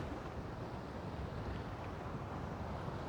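An outboard boat engine drones steadily and evenly on the water while fishing off Western Australia, with wind rushing over the microphone throughout.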